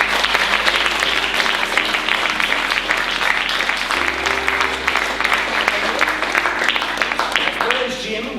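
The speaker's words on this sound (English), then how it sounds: "Please give Jim a nice round of applause as he makes his way up" Audience at a live comedy show breaking into steady, full applause that holds strong and even throughout, a broad crowd of clapping hands with a low hum underneath.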